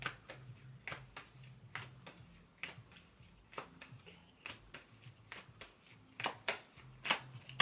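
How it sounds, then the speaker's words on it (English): Tarot cards shuffled by hand in a quiet room, giving a string of crisp riffling snaps and soft slaps at an uneven pace, close and fairly quiet with no talking. "I'm gonna shuffle and then I'm just gonna pick like some random cards that I feel guided to"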